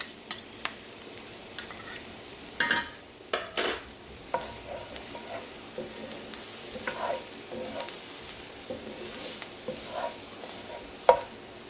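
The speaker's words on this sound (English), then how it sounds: "now we're going to add in our minced garlic, and we're just going to cook this until it is fragrant" Minced garlic cooking in a hot pan, giving a soft, continuous sizzle broken by occasional sharp spatula scrapes and taps close by.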